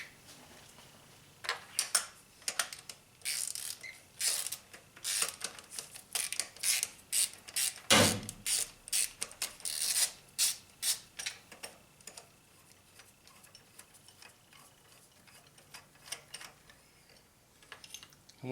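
A ratchet with a magnetic spark plug socket clicks in quick, close bursts while spark plugs are loosened and removed from a 2003 Honda Civic engine, the rapid ticking coming in spurts with short pauses and fading near the end.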